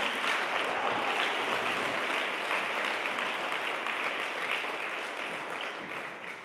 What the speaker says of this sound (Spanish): Pueden ese aplauso fuerte a Dios de la gloria.